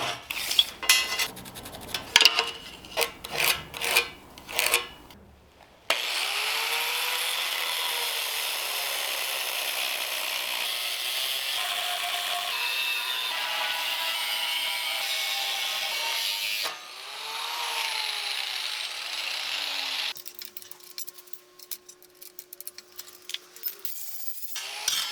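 A section of welded steel tube for a rocket stove is cut off: clattering metal handling first, then a long steady grinding or sawing run with pitch sweeps, and a final burst of clanks and rattles.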